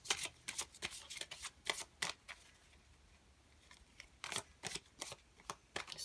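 Romance Angels oracle cards shuffled by hand in quick, crisp riffling bursts, close and fairly loud, pausing briefly midway before another run of flicks, with no talking.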